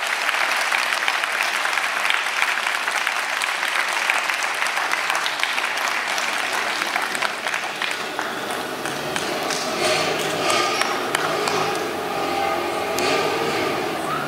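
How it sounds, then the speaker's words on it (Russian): A concert audience claps to welcome honored guests at a symphony orchestra performance in a theatre, dense steady applause filling the hall throughout, loud and continuous. "давайте аплодисментами встречать наших почетных гостей концерта"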